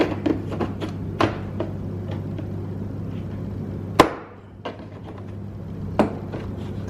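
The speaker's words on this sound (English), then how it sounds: "then you can take your prying tool and get in between" Plastic trim pins snap and tap in sharp, scattered clicks as a prying tool works between a 2013-2020 Ford Fusion door panel and the door, over a low steady hum.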